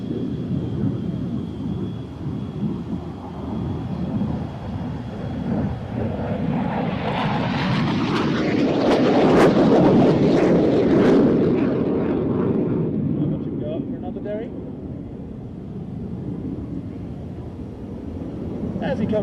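A jet aircraft flying an airshow display swells from a distant rumble into a loud roaring pass before fading again, with a commentator talking over it.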